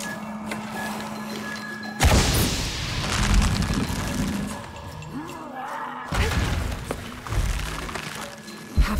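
Explosion in the video game Shadow of the Tomb Raider: a loud booming blast with crashing debris that rumbles on, followed by a second heavy burst, all without speech.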